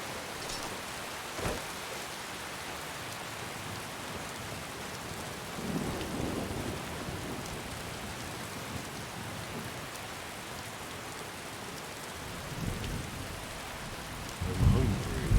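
Steady rainfall hisses across a video game scene, with a sharp thunder crack early on and low rumbles rolling in later, fairly quiet overall and without talk.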